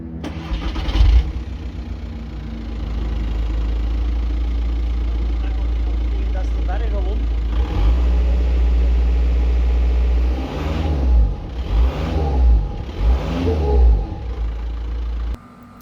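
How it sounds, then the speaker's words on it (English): A used car's engine idles steadily up close, then is given gas in several short revving bursts near the end, with no talk over it. "Also ask the owner to give it some gas."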